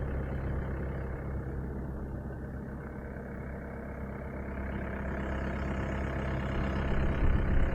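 A tractor engine runs steadily nearby beside a creek on a muddy property, a continuous low idling rumble that swells slightly toward the end.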